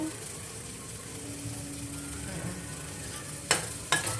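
Soy sauce sizzles steadily in a hot pan on an Indian home stove while it is stirred, and two sharp scraping clacks of a utensil on the pan sound near the end.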